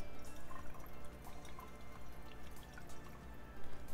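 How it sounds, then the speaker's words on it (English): Water poured from a container into the reservoir of a compact garment and facial steamer, a soft continuous trickling and dripping close by with no talk over it. "And then ayan, lalagay na natin yung tubig dito"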